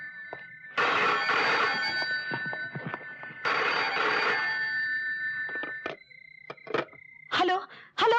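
A telephone rings in two long bursts, followed by short clicks and fragments of a higher tone, recorded fairly close and clear.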